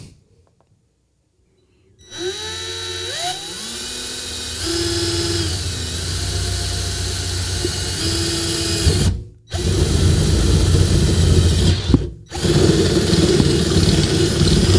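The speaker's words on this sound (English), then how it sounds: "Take your time drilling a hole so you can drill a nice clean hole" Power drill boring a hole starts after a brief silence, spinning up with rising whine, then running loud and steady, briefly stopping twice before restarting; no voices.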